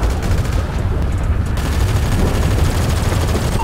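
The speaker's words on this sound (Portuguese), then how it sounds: "Dragão, é muito tiro, gente, é muito tiro." Heavy gunfire in the GTA RP video game: dense, rapid volleys of overlapping shots, loud and relentless from start to finish with no pauses.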